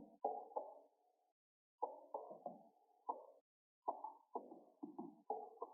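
A gritty, lo-fi Afrobeats percussion loop downsampled to 2K, with hollow, plopping hits in a bouncy, repeating pattern and brief gaps between phrases.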